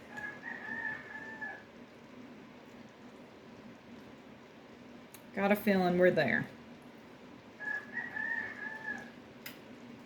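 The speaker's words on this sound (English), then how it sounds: "You hear the roosters?" Roosters crow outdoors on a snowy day, two clear drawn-out crows at the start and again near the end, with a person speaking between them over a steady background hiss.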